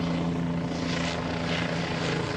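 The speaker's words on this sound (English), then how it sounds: "Do you hear this airplane?" Propeller airplane passing overhead, a steady droning engine with strong low tonal hum and broad rushing noise, loud and continuous with slight swells, no voices.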